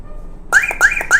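A Bluetooth car alarm signals an illegal engine start with three sharp, loud electronic beeps in quick even succession after a short silence.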